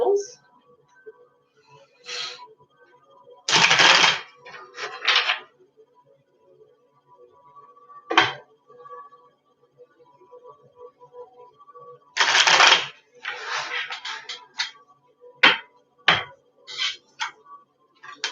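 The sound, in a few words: shuffling a deck of tarot cards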